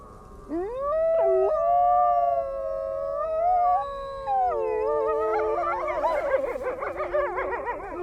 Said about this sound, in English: As if saying their goodbyes, the wolves start to howl.